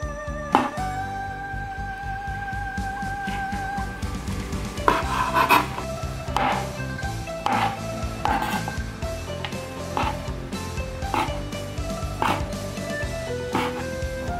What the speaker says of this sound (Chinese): 把香菇的角切下来，切片。 上面斜切成片